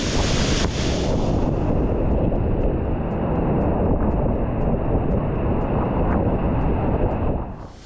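A powerful waterfall in Iceland pours with a loud, continuous roar, buffeted by strong wind that blasts the microphone close up, steady for the whole stretch before easing slightly at the end, with no talk.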